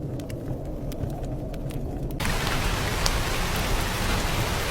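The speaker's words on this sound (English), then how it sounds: "Raining thunder and cozy fireplace sound." Steady rain falls, and after a couple of seconds it swells into a louder, fuller downpour. There is no distinct thunder.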